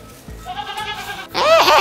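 A goat near a pen bleating loudly up close, a short wavering cry rising into a stronger, harsher bleat at the end.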